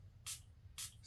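Two short, bright hissing spritzes from a perfume spray bottle, about half a second apart, with a third starting at the end, over a quiet low hum.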